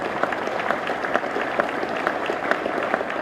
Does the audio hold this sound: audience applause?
yes